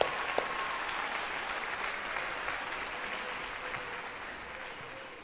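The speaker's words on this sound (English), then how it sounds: "another big round of applause for the clarinet section" Moderately faint, steady audience applause for a clarinet section at a wind ensemble concert, a wash of clapping that slowly tapers toward the end.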